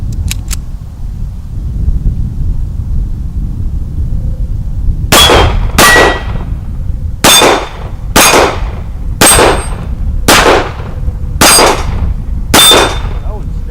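Shots from a Sig P226 pistol strike steel alien-shaped targets, producing eight sharp, loud metallic clangs at roughly one-second intervals over a low outdoor background rumble.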